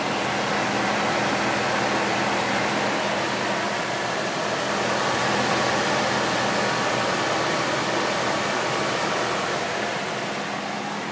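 A 2004 Dodge Ram with a 5.7L Hemi V8 idles nearby under the open hood, giving a continuous, even mechanical hum and whir at a steady level throughout, with no talk over it.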